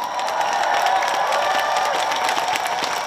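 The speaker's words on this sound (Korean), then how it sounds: "박수 많이 주시면 됩니다" Concert audience at an outdoor hope-themed show in Goseong applauding, a dense steady wash of clapping heard from within the crowd, sustained evenly throughout without a break.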